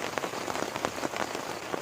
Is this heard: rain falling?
yes